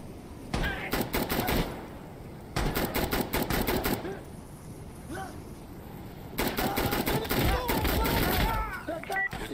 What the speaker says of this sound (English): No, I didn't mean to shoot you